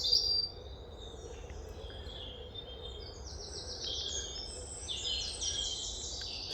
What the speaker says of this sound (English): Bird song, I love it.